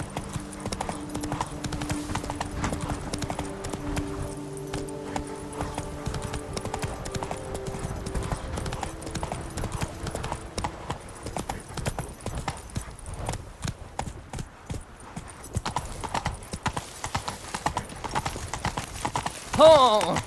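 Roach, a horse in the Witcher 3 game, trotting with steady clip-clop hoofbeats in a brisk even rhythm, close and clear, while a voice speaks briefly over it.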